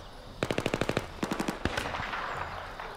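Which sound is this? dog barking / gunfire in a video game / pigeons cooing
gunfire in a video game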